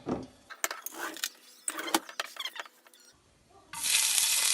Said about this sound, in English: we're going to fry 3 garlic cloves